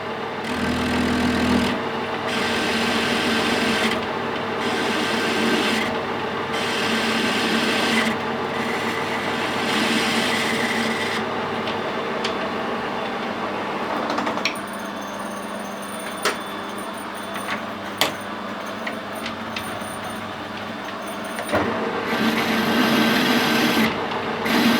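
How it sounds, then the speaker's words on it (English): Steady grinding or filing on metal, cutting a chamfer for weld penetration while making a steam waggon special tool, running continuously up close with a few brief pauses and sharper scraping toward the end. "we'll put a chamfer on it so we'll get some really decent weld penetration into it"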